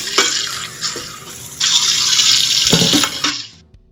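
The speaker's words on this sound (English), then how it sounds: "I still wash it with water and white vinegar" Tap water runs into a kitchen sink as fresh spinach is rinsed, with white vinegar added to the wash water. A steady close splashing rushes in bursts and swells louder midway before cutting off.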